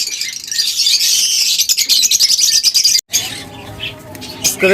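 Pet birds, a caged breeding pair among many others, chirp and tweet in rapid bright bursts, loud and close, with a brief break before softer calls resume.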